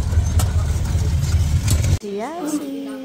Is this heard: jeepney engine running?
yes